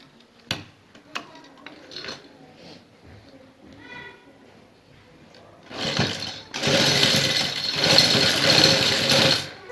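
A sewing machine runs steadily as it stitches a lace strip onto a neckline, a loud continuous mechanical whir that starts after a few soft clicks and handling sounds.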